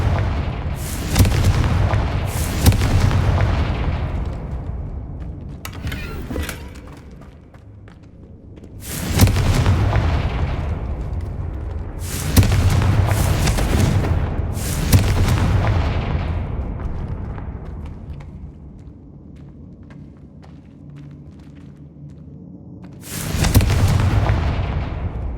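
Heavy booming blasts of the Confringo explosion spell in the Hogwarts Legacy video game, several loud detonations with long rumbling decays, some coming in quick pairs, spread across a game soundscape with no talk.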